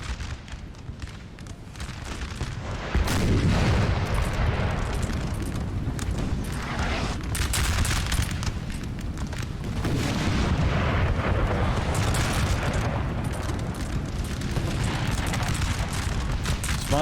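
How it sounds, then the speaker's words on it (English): Artillery fire and explosions in the Napoleon Total War video game, a continuous loud rumble of cannon booms and blasts layered over one another throughout, with no clear gaps and no talking. "looks like the Iran general there had a scare from the artillery"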